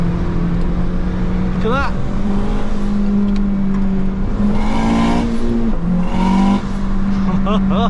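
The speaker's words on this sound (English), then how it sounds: "Second gear downshift. Watch this." A 500 bhp Honda Civic FN2 Type R on coilovers drones steadily in the cabin during a second-gear downshift, engine note holding loud and close with small rises, while someone speaks briefly over it.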